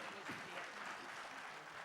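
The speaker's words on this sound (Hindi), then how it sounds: "तो हमारे तरफ से भी इनके लिए ताली बजा दिया जाए" Faint audience applause at a televised Indian cultural event, a steady wash of many hands clapping with a murmur of voices beneath, fairly distant and even in level.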